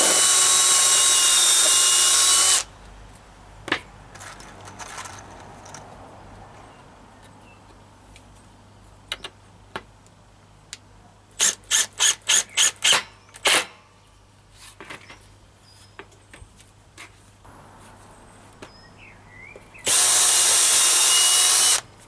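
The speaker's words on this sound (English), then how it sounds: "now we're going to get into a bit of serious drilling and screwing." Power drill driving screws into wood while building scrapyard spud planters: two long, loud, steady whirring runs at the start and end, with sharp irregular taps and clicks in the quieter stretch between.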